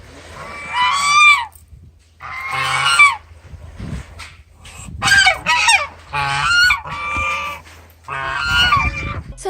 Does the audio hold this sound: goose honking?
yes